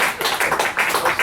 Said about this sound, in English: So clap, clap, clap.